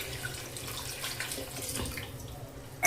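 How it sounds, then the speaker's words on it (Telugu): Half a litre of water is poured into a pot of goat head curry, a steady soft splashing and trickling stream that continues throughout and ends in a sharp knock. "ఇప్పుడు అర లీటర్ వాటర్ పోసుకుందాం"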